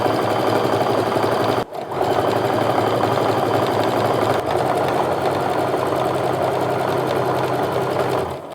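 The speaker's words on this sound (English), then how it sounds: "I'm gonna go ahead and sew my last section over here to the center" A sewing machine stitches a quilt section in a fast, steady mechanical whir, close and continuous, with one brief pause early and a short hitch midway.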